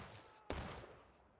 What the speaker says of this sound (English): Keep up the fire, Hamptons. Keep shooting, Hamptons. Keep shooting.